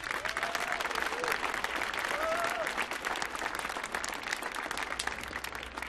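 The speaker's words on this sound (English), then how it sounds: "Have another round of applause." Concert crowd applause at a live band performance on the Millennium Stage, a steady wash of many clapping hands with a few faint whistles, continuing for several seconds.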